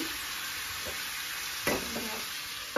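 A fish head sizzles steadily in a pan for a sweet pumpkin dish, with a few soft scraping stirs and one louder clatter of the spoon against the pan, all fairly quiet and close.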